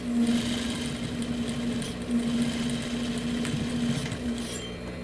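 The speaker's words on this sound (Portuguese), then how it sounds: "Dependendo do alfinete que você tá usando, não é bom passar com a máquina em cima." Sewing machine stitching fabric over pins, set to a 3.5 stitch, while making a farmhouse-style bread basket; a steady, close mechanical whir with a constant hum runs the whole time and no one speaks.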